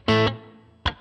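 Two short electric guitar strums run through a Line 6 HX Stomp XL with reverb, a loud chord ringing into a fading reverb tail, then a second brief hit.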